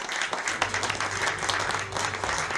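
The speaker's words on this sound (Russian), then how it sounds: "И давайте вместе ему похлопаем." An audience applauds together, a dense, steady wash of clapping that holds evenly throughout without any voices over it.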